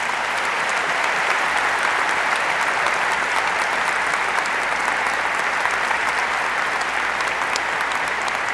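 An audience at a college commencement ceremony applauds steadily and loudly for speaker John Ratzenberger, a dense wash of clapping that holds at an even level from start to finish.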